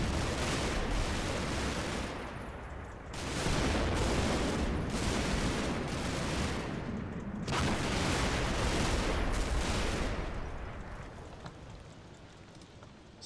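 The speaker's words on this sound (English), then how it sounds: "we are starting to get a bit of mortar fire in here" Mortar fire in the wartime game Combat Mission Final Blitzkrieg, a sustained wash of loud booming blasts and rumbling impacts in overlapping bursts, heavy and dense with brief lulls.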